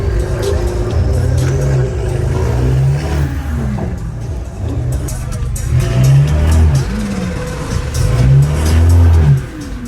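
BMW 330i with turbos and antilag revs hard and close, a loud continuous engine roar with repeated rising sweeps and crackling pops, while people talk excitedly over it.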